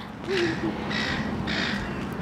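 Gulls calling outdoors on a bushwalk, several harsh repeated squawks at moderate distance over a steady background rumble.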